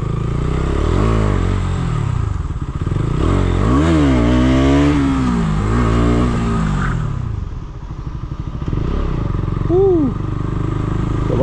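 A modified KTM Duke 200 BS6 motorcycle engine runs with a loud, steady throb, rising and falling through several revs. Speech is heard along with it.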